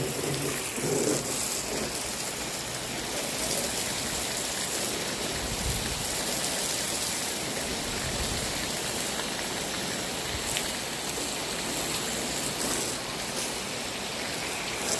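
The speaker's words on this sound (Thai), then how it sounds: "ถ้าฝนตกหนักแบบนี้นี่" Heavy rain pours down steadily, a dense, constant hiss of water drumming on surfaces that never lets up.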